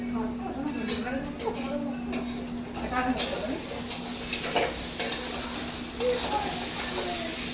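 A spoon stirs food in a pot in a home kitchen, with scraping and light metallic clinks over a soft sizzle, close by, while people talk throughout.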